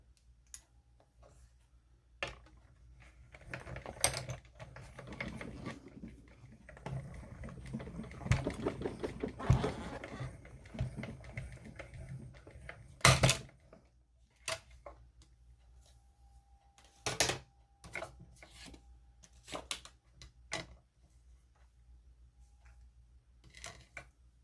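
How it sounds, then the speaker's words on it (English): A die-cutting machine runs red cardstock through to cut out stars, giving a quiet crackling, ticking mechanical rattle that builds to a steady middle stretch, followed by a few sharp isolated clicks and knocks. "I'm going to take a piece of real red, push that back through, and we're just going to get our stars die cut"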